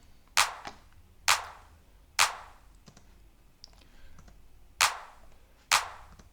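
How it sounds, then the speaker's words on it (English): A clap drum sample in an electronic music production, five sharp, snappy hits at an uneven spacing, fairly quiet and dry, with faint noise between them. "Next thing will be the clap."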